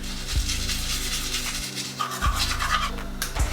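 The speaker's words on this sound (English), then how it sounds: "Just take my toothbrush, dip it, and get to work." A toothbrush dipped in baking soda scrubs teeth in a close, steady, bristly rasp with rhythmic back-and-forth strokes.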